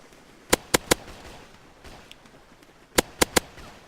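Two quick groups of three sharp gunshots in the game Landless, crisp and close, separated by a short quiet gap.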